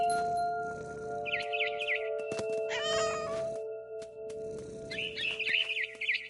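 A mother bird in the video game What Remains of Edith Finch gives two bursts of high, fluttering chirps over a steady tonal game ambience. Scattered rustles fall in between.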